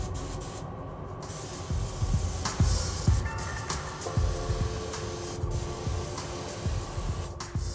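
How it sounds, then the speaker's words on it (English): Spray gun coating a test panel in the Corvette Z06 paint shop, a steady hissing spray with short pauses and mechanical thumps and shuffles of shop equipment around it, close and continuous. "We're gonna have to go ahead and place this panel up here and spray it out now and check for craters."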